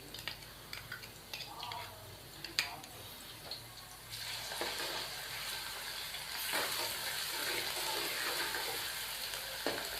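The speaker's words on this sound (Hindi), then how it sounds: "अब हम इसको 1 मिनट के लिए फ्राई कर लेंगे ताकि इसका कच्चापन जो है ख़त्म हो जाए" Light brown onions frying with a spoonful of ginger garlic paste in a pan, with a steady sizzle that grows louder and brighter partway through, along with occasional stirring clicks and no talking.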